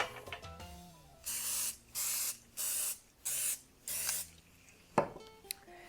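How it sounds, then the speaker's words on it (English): Five short hissing bursts of aerosol baking spray onto muffin top pans in an even rhythm, close and clear, followed by light clinks of a pan. "I'm going to spray my muffin top pans with baking spray"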